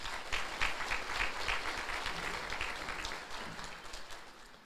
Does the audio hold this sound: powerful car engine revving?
no